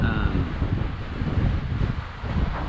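A sudden strong wind gust hits a sailboat on rough water, jumping from about 12 to 30 knots. Steady, loud wind roar and microphone buffeting fill the clip with no break.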